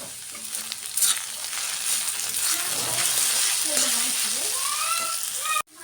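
Okra (bhindi) fries in a pan with a steady, close sizzle and occasional stirring scrapes, and a voice speaks faintly underneath.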